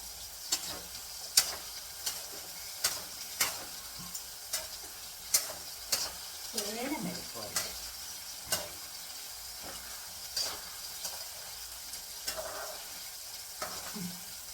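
Elephant foot yam stir-fry sizzling softly in a pan, punctuated by regular sharp clicks of a spoon against the vessel as it is stirred, fairly quiet and close.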